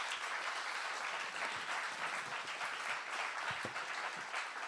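A seated audience at a talk claps in a dense, steady round of applause, moderately loud and unbroken, with no speech over it.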